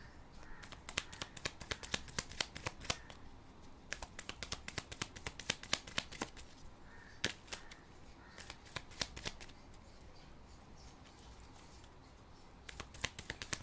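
Tarot cards being shuffled by hand to draw a clarifier card: a long run of close, crisp riffling snaps and flicks in uneven bursts, fairly quiet, with no voices.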